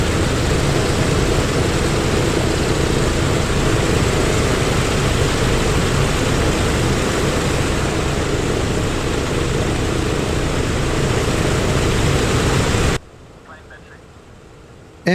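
Douglas DC-6 piston propeller airliner in Microsoft Flight Simulator (PMDG add-on), engines droning as a steady loud broadband roar for about thirteen seconds before cutting abruptly to near silence.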